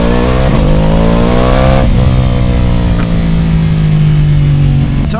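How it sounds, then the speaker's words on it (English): A BMW S1000XR motorcycle with a stage 2 tune and over 205 horsepower revs hard and accelerates, its engine note loud and close as it climbs steadily in pitch through several seconds, with a sharp blip near the end. "So it's a BMW S1000Xr. The thing's got over 205 horsepower."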